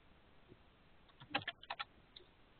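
A quick burst of keystrokes on a computer keyboard, faint, clustered clicks against a quiet background.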